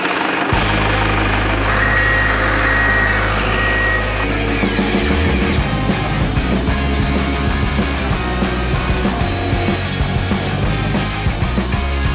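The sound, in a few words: snow groomer engine in indoor ski hall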